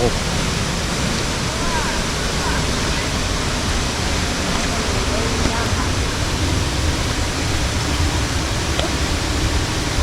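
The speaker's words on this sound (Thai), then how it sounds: "น้ำตกเจ็ดคดใหญ่ตรงจุดนี้นะฮะ" Steady broadband rush of the large Jet Khot waterfall on a steep forest trail, constant and close, filling the whole stretch with no breaks.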